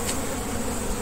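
Honeybees in a beehive drone with a dense, continuous buzz during frame handling, close and steady throughout the brief moment.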